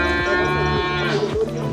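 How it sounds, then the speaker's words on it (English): Dorper sheep on a farm give a loud, drawn-out bleat close by, a single harmonic call that breaks into a rougher tail at the end. "these are the sheep."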